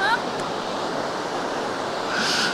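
Rushing river water flowing far below a high bridge in eastern Abkhazia, a steady broadband roar filling the whole clip with a slight swell toward the end, no speech over it.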